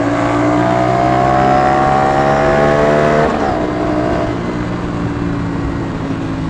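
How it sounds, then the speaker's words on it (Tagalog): An Aprilia RS 457 sport motorcycle engine revs hard and close, a loud, rough drone that climbs and then drops as the throttle closes, tailing off into a lower steady running note. "Grabe ingay ng motor na to."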